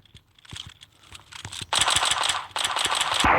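Automatic gunfire in a French-language online shooter game: sparse single shots at first, then dense, loud machine-gun bursts from about the middle onward, close and continuous, with no talk.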